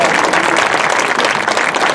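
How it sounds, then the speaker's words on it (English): Audience at a Meet the Buckeyes event breaks into dense, sustained applause, many hands clapping loudly and steadily throughout. "give them a round of applause"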